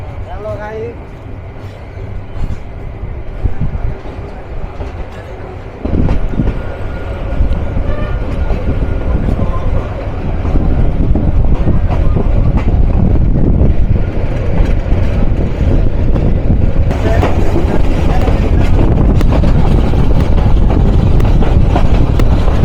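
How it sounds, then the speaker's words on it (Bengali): The Tista Express intercity train rumbles along the rails, a loud, steady roar and rattle of wheels and carriages that builds and stays heavy throughout, with someone talking over it. "আন্তনগর তিস্তা এক্সপ্রেস যাত্রা শুরু করলো"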